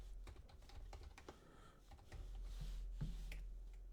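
Keys clatter on a computer keyboard in a quick irregular run of soft clicks, fairly close but quiet, with a low steady background hum and no talking.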